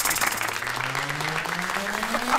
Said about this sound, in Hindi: तो इनके लिए एक बार जोरदार तालियां होनी चाहिए